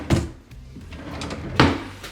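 Kitchen drawers in a home slide and shut during an inspection, giving two sharp close knocks about a second and a half apart, with faint rustling between them.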